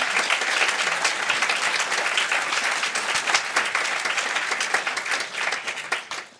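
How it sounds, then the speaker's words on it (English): A plenary audience at a citizen and stakeholder consultation event applauds its panelists, with dense, continuous clapping of sharp, closely spaced claps that runs throughout and thins slightly toward the end. "perhaps a round of applause for our panelists at this stage"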